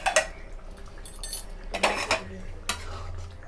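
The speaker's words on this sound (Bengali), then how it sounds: "ঠিক 1 মিনিট হয়ে গেছে, আমরা ঢাকাটা খুলে দেখে নিচ্ছি।" A lid is lifted off a pan of parshe fish curry cooked with eggplant, giving a few close metallic clinks and a scrape of metal on metal with no talking.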